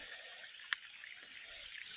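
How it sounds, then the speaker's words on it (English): Light rain falling outdoors onto a wooden deck, a faint, soft, steady patter with one brief sharp drip or tap standing out, no talk. "Well, it's raining"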